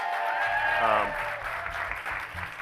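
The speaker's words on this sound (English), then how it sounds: "Give a round of applause for yourselves." Applause from the audience at the Just Play Awards Ceremony 2024 rises into steady, sustained clapping from a crowd, with a voice speaking loudly over it near the start.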